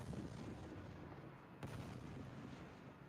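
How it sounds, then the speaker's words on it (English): An explosion sound effect, played during a tabletop role-playing session, gives a sustained low rumble with a sharper burst about halfway through and then a rolling decay, with no talking over it. "Quite a good explosion, that one."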